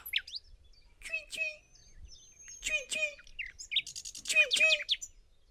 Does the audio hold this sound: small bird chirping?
yes